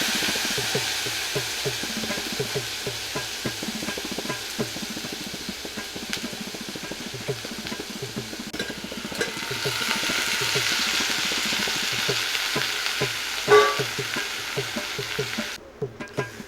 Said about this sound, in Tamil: அதுக்குண்டான தாளிசம் போயிட்டுருக்கு.